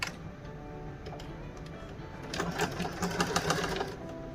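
A sewing machine stitching a white invisible zipper, giving a rapid, even ticking run at moderate volume that grows louder in the second half as it backstitches to secure the seam.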